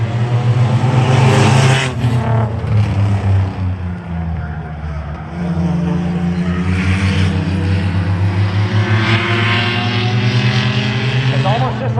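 Five bomber-class race cars roar off at the green flag to start a 25-lap feature on a short oval, a loud, steady engine drone that swells and surges, with a voice talking over it.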